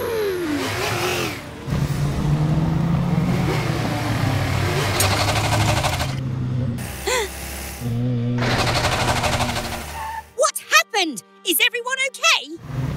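Cartoon vehicles racing, with revving engine hums and rattling mechanical bursts mixed with music and animated voices talking over them, then sharp boings and clatter toward the end.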